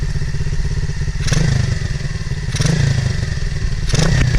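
A motorcycle engine idles loudly and steadily right after being started, a close, continuous rumbling putter with a few short surges and clattering bumps over it.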